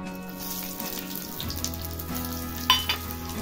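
Hot green chillies roasting in a pan for a dry mackerel green chutney, giving a steady close sizzle with a low hum beneath and a couple of sharp clinks near the end.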